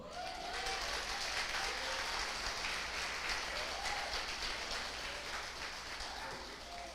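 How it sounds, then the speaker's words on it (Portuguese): A congregation at a Portuguese-language church service applauds steadily in a large room, giving sustained, evenly paced clapping with faint voices mixed in. "Aplauda o Senhor."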